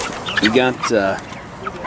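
Five-week-old Cornish Cross meat chickens in a chicken tractor cluck and squawk close by in a couple of short bursts, over a brief bit of talk.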